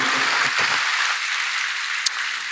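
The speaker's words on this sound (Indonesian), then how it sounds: "Berikan tepuk tangan kita untuk Tuhan kita." Church congregation clapping during a sermon, a steady hiss of many hands with a faint murmur early on and one sharp tap partway through.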